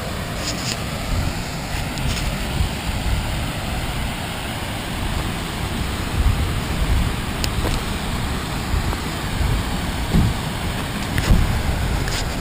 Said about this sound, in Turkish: Göründüğü gibi burası Girlevik Şelalesi